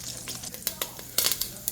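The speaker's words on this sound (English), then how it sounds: "So that's frying up nicely. It's also spitting a lot of hot oil." Chicken frying in hot, spitting oil while cooking Puerto Rican arroz con pollo guisado, with scattered sharp pops and crackles over a low steady sizzle, close by.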